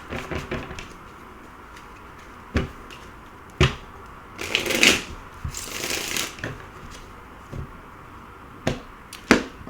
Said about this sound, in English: Let's cut the cards.